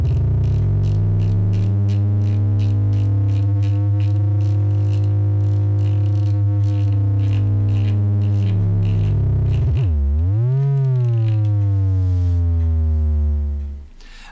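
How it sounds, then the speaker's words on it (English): A pure sine tone with harmonics from a Mnemonic Devices Juniper synthesizer module, wobbling and sweeping in pitch, then dropping and rising sharply before fading out. "So let's go to the sine wave"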